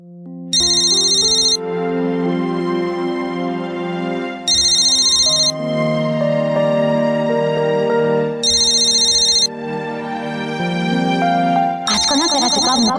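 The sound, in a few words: telephone ringing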